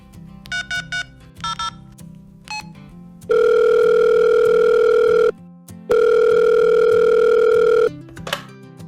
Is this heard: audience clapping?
no